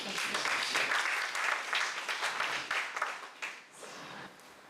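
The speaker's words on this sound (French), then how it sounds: "sur vos applaudissements" Evening conference audience applauding, a dense burst of many hands clapping that swells, then thins out and fades toward the end.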